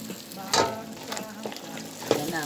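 Celery fries in a hot pan, giving a close, busy sizzle with several louder bursts of stirring and scraping over the steady crackle. No one speaks.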